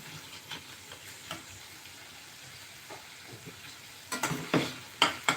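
Onions fry in a pan until reddish, a soft, low sizzle under scattered light ticks of stirring, with louder, busier scraping and clatter in the last second and a half; no voices.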